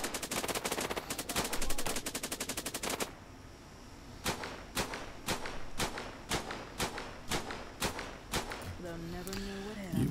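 Gunfire in the video game Cepheus Protocol opens with a rapid, loud burst of shots, then after a short lull settles into a steady series of evenly spaced single cracks.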